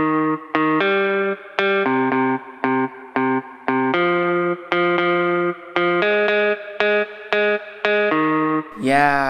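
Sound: music processed with EQ, compressor, saturation and reverb

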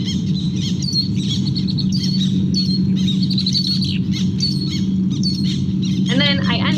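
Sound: black terns calling over reed flats

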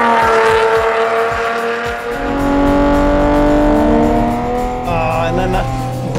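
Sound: Ferrari Enzo supercar engine revving through gear changes

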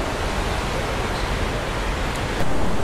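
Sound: mountain stream water flowing

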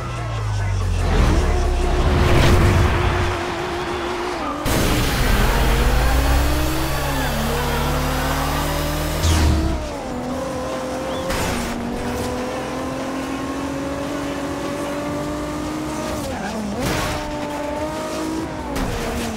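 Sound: Nissan GT-R car racing in video game Forza Horizon 2

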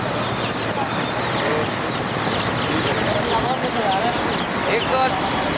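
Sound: chicken chicks being transported

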